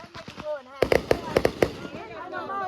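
Fourth of July fireworks go off nearby in a quick cluster of sharp pops and bangs. People talk and exclaim over the blasts and after them.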